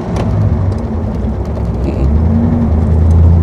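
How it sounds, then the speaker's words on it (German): A 1934 Mercedes 380 Cabriolet C with a supercharged eight-cylinder engine runs on the move, its loud, close engine droning steadily with a slight light valve clatter and a gear change partway through. "Man hört die Ventile klappern ein bisschen, das ist nicht schlimm, das ist eine Einstellungssache."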